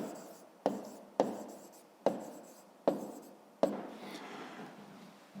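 A pen writing by hand in a math exercise book, five brisk strokes each starting with a sharp tap against the page and fading into a soft scratch, close and quiet with no talking.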